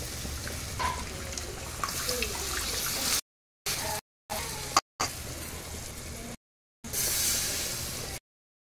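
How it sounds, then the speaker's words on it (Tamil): Tamarind water pours and splashes in bursts, a rushing watery hiss broken by short silent gaps between pours. "இந்த புளி தண்ணி ஊற்றிக்குவோம்."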